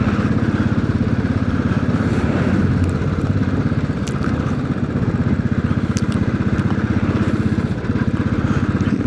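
A Royal Enfield Classic 500 motorcycle is ridden on the road, its single-cylinder engine thumping in a steady, loud, close rhythm with wind noise over it throughout.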